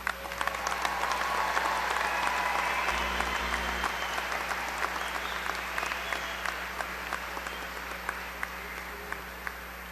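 Sustained applause from a large audience honoring graduates at a spring university commencement, broad even clapping with sharp individual claps popping out, a low steady hum underneath, fading slightly toward the end.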